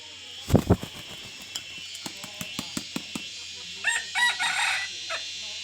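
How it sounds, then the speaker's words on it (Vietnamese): A jungle fowl rooster crows near and clear, preceded by sharp clucks and scattered clicks, the long crow rising and fading in the final seconds over a quiet background with low hum. "Bây giờ mình cho con gà mùi tốt của mình nó gáy cho anh"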